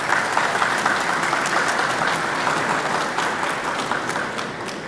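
An audience at a Vasojević evening gathering applauds the Serbian ambassador to Montenegro. Dense, steady applause from many hands fills the whole stretch, with no talk over it.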